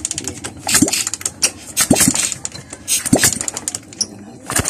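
Someone kick-starts a Suzuki Smash 115 motorcycle with its spark plug removed, giving three repeated thumping kicks about a second apart, each followed by a brief mechanical rattle and a sputter of air through the engine.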